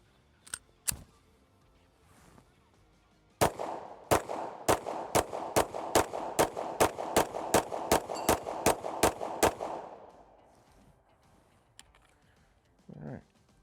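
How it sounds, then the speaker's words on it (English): A Shield X carry comp compensated pistol fires a rapid string of about sixteen sharp, evenly spaced shots from a 15-round magazine. A couple of isolated reports come earlier, and the echo rings briefly after the last shot. "This is the Shield X carry comp. I'm going to try and give it the best possible run"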